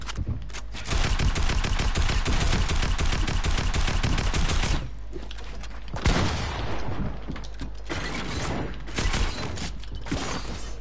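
Dense, loud automatic gunfire from a 1v1 video game match fills nearly the whole stretch as continuous rattling bursts with metallic mechanical clatter, broken only by brief dips.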